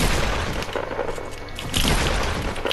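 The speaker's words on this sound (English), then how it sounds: "Somebody trying to shoot me." Gunfire and booms in the video game Fortnite come as dense, loud, close bursts of shots and impacts that run almost continuously, with no talking.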